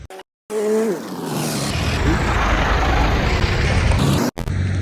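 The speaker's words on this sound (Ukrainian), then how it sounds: "Ой, мушу відступитися, бо машина їде." A car drives past on a road. Its engine roar comes in suddenly, swells loudly and stays close, then cuts off abruptly near the end.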